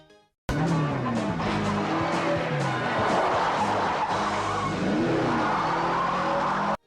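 Tires of a red Ferrari 308 GTS squeal and skid loudly for several seconds over a roaring engine, a continuous, close, sustained screech with wavering pitch.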